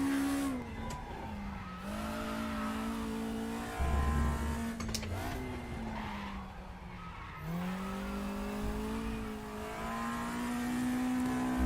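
A race car engine in a racing video game revs and shifts continuously, rising and falling in pitch with a brief tire squeal partway through, loud and close with no talk.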